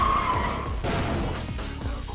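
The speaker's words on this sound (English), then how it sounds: "Man's tried to run me over with a freaking truck." A truck in Yakuza 4 skids while trying to run a man down, with a loud, continuous tire squeal and engine noise carrying through a short burst.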